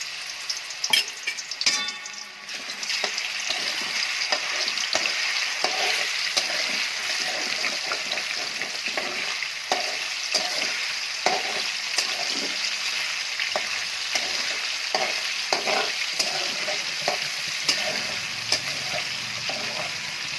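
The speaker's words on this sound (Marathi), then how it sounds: "अशा प्रकारे आपण व्यवस्थित तळून घ्यायचं आहे" Chicken rubbed with turmeric and salt fries in a pan with a constant bubbling sizzle, punctuated by spatula scrapes and sputtering pops over a long steady stretch.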